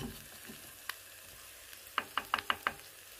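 Mixed vegetables searing in a small Moroccan tajine give a faint, low sizzle, followed by a quick run of five or six sharp clinks close by.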